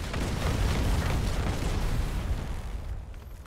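Gunfire exchange in the iOS shooter game Go4MC5: a dense, loud stretch of overlapping shots and booming blasts, easing off slightly toward the end.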